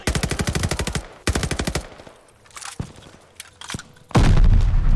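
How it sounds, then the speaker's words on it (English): Gunfire and a grenade blast from the Call of Duty: Vanguard video game: two rapid bursts of automatic fire, a few scattered shots, then a loud booming explosion that closes the stretch. "That grenade took a year to go off."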